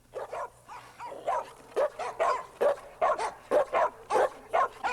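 Several dogs bark close by in a quick, uneven run of short, loud woofs and yips, with no one talking.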